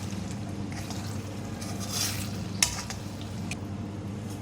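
Spices and garam masala being stirred into a pan of aloo do pyaza with a spoon: a soft steady scraping and faint sizzle, with a brief metallic clink of utensil against the pan.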